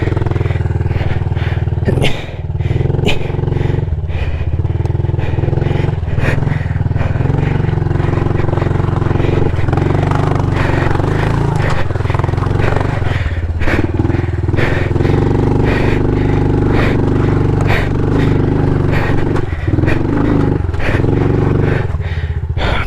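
A 110cc pit bike ridden along a rugged single track trail in Colorado, its small engine droning loudly and steadily at close range, with rattles and scrapes from the rough ground throughout.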